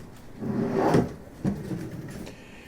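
A kitchen drawer on a double slider rolls open or shut in a wooden steel-framed kitchen, with a longer sliding rumble followed by a sharp knock as it stops, close by.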